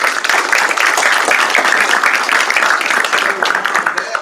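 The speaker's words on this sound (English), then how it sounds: "Please give him a round of applause." Applause from an audience at a high school board meeting honoring a student, steady dense clapping filling the room throughout with a faint murmur of voices underneath.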